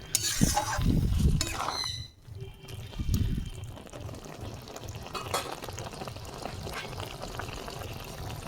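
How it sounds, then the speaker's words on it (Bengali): A little water is poured into a cooking pot while making thor ghonto, a banana-stem curry, giving a short close splash and gurgle that then settles into a steady low bubbling and simmer. "দেখুন খুব সামান্য জল দিচ্ছি"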